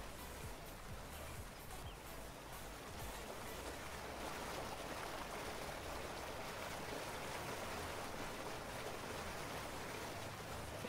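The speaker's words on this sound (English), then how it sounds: "Why can I hear running water here?" Steady rushing of running water in Farming Simulator 19, a continuous broadband wash with no clear source or rhythm, heard alone.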